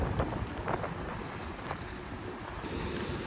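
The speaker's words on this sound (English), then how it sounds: "It's getting really windy." Wind gusts buffet the microphone beside the water in Rotterdam, a rough, uneven rushing roar with brief louder blasts and no voices.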